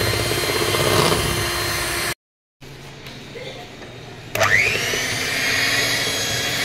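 A Kenwood stand mixer beats vanilla cake batter with a steady, loud motor whir. It cuts out for a moment, then starts again with a sharp rising whine before settling back into its drone.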